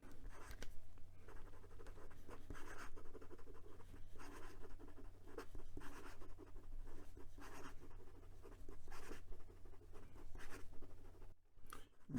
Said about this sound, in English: it is very scratchy and it's starting to dig into the page. And some quick writing.